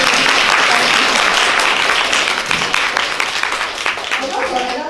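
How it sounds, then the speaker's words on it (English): Audience applause for a guest at a dialogue event in Hong Kong, dense sustained clapping from a full room that holds steady for several seconds, then begins to thin and fade toward the end. "We have big claps for him."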